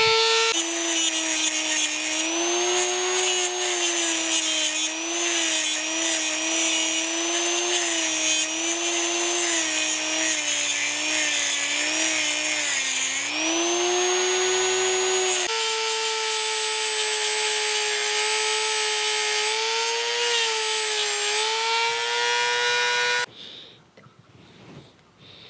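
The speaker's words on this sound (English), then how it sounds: "I'm just gonna try to grind the head completely off of that" An angle grinder cuts steadily into a bolt head on a Kurt machine vise, a continuous loud whine that shifts pitch slightly as the load changes, then cuts off abruptly near the end.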